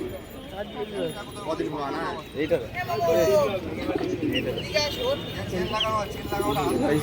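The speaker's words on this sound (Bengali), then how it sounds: "এখানে সব ম্যাড্রাস পায়রা রয়েছে এই খাঁচাটার মধ্যে" Madras pigeons coo in a cage at a pigeon market in low, rolling calls, several birds overlapping at close range, while people talk nearby.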